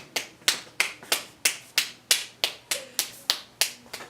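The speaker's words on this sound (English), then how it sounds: "Round of applause to Dave the Slave" A single person claps a round of applause, about a dozen sharp, close, evenly spaced claps that ring out alone at a steady beat.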